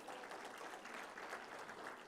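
Applause from a conference audience at a national scientific conference on sterile processing, a dense, even wash of many hands clapping, faint and distant-sounding, continuous with no voices over it.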